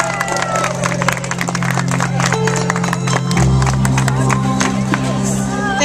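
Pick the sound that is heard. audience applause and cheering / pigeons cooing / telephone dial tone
audience applause and cheering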